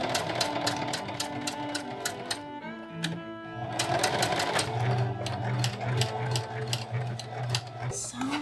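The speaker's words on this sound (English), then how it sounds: "Let us away to the sewing machine." A Singer Heavy Duty sewing machine stitches a tunic, its fast needle clatter ticking steadily through most of the stretch with brief pauses, alongside faint background music.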